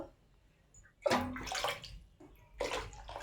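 Water is poured from a vessel into a cooking pot of rui fish curry with cauliflower, in two separate splashing gushes close by, separated by a short quiet pause.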